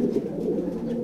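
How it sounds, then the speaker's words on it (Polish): Male racing pigeons coo steadily and close by in a loft, several soft overlapping calls running through the whole moment with no talking. "Teraz znajdujemy się w gołębniku lotowym samczyków u nas."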